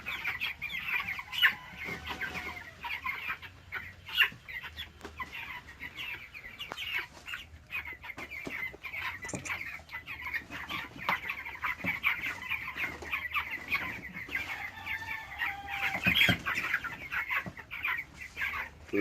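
Live chickens at a New Jersey poultry farm cluck and squawk continuously, a busy flock close by with occasional louder calls rising above the steady chatter.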